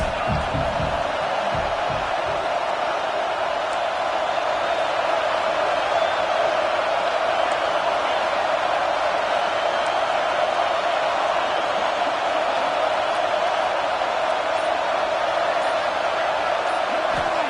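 Steady roar of a stadium crowd at a college football game, dense and loud throughout, with faint bursts of cheering rising from the constant wash of noise.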